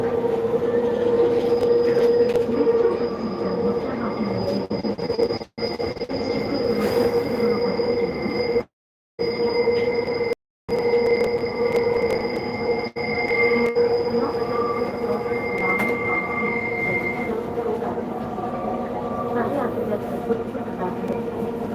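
A Kochi metro train running between Ernakulam South and Tripunithura, its wheels squealing in long, steady high tones over a continuous rolling rumble, with two brief dropouts partway through.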